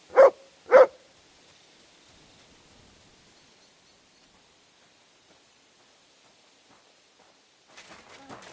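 A dog barks twice in quick succession, close and loud, then near silence follows with faint rustling and a brief burst of noise at the end.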